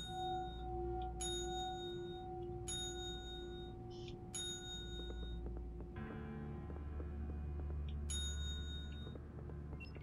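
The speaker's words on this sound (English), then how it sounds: "I believe there's also an invisible bell here because there's a small spot on the table for it" An invisible bell in Luigi's Mansion 3 gives three bright dings spaced a couple of seconds apart, ringing clearly above a low droning game soundtrack, with small chiming accents between the strikes.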